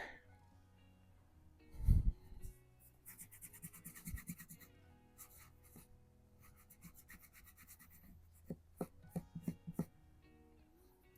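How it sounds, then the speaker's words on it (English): Small brush scrubbing inside the saw-cut grooves of Delrin scales on a Buck 303 stockman pocket knife, producing quiet, intermittent scratchy rubbing strokes with a few louder knocks and soft handling noises. "these are like saw cut Delrin, and I like to scrub down inside that saw cut, try to get any gook out of those saw cuts."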